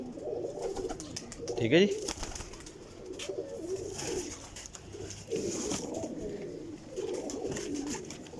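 Racing pigeons coo softly in repeated low throaty bursts close by, while someone speaks intermittently over them.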